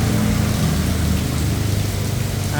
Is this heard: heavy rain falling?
yes